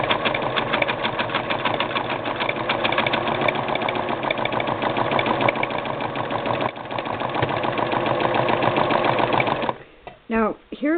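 A Singer 6212C sewing machine stitching zigzag embroidery runs in a loud, fast, steady mechanical whir right up close, then stops near the end, where a voice starts talking.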